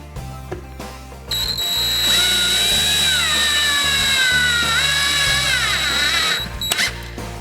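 A power drill drives a drywall screw through drywall into a one-by wood board: a loud, close whine that rises and bends in pitch for several seconds before stopping abruptly, with brief handling knocks before and after.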